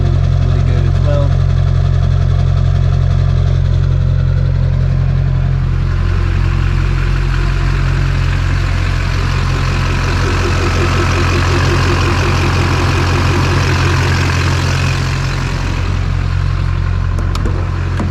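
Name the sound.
LB7 Duramax diesel engine idling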